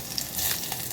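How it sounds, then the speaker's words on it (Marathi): Garlic spluttering in hot oil for a dried fish curry, a close, steady sizzle with small crackles and pops. "लसूण चांगली तडतडली"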